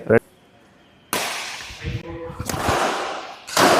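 Badminton racket smashing a shuttlecock, a few sharp whip-like cracks spaced apart, close and loud, with brief rustling and movement noise between hits.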